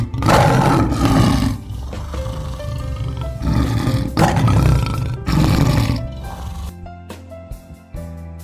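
A lion at a safari park in Prigen, Indonesia, roaring loudly and close in a series of deep, rough bursts separated by short pauses, with no talk.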